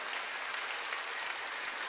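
A church congregation claps together during a Wednesday worship service, a soft, continuous wash of applause heard from a distance.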